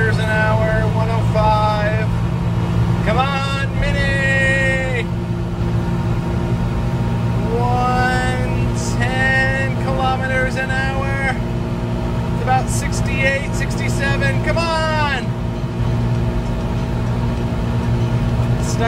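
A mini truck engine held at full throttle in fourth gear gives a loud, steady drone throughout, with someone talking over it.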